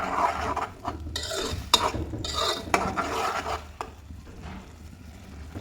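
Ground tomato stirred into fried onions and lentils in a pan for tomato chutney, with repeated scraping spoon strokes, occasional clinks and a faint sizzle underneath, close up and without speech.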